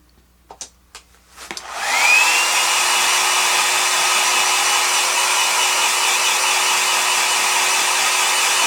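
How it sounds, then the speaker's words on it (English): A hair dryer, used while painting a Vespa, switches on after a few clicks and runs as a loud, steady whooshing whine, close up and constant. "I'm going to actually use my hair dryer for that"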